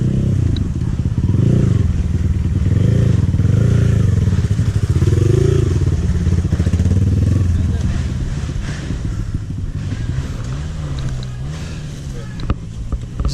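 A dirt bike engine drones and revs loudly and close on a trail ride in Bali, its pitch wavering as the throttle rises and falls, with rattles and knocks from the ride. Voices speak over it.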